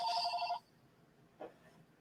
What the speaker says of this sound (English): So the phone rings.